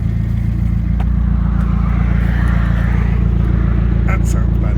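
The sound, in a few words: car with exhaust rear box removed driving off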